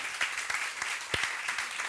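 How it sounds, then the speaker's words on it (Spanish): Audience applause at a talk in the Ateneo in Madrid, fairly faint clapping from a modest crowd with a few distinct louder claps standing out. "Un aplauso."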